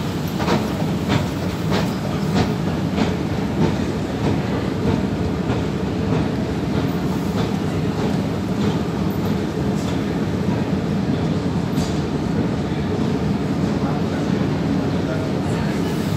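Train running through Stockholm, a steady rolling rumble with repeated clickety-clack rail beats throughout, heard close and continuous on a cold day while a person talks over it.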